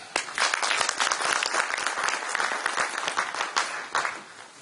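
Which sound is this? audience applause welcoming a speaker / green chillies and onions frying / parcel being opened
audience applause welcoming a speaker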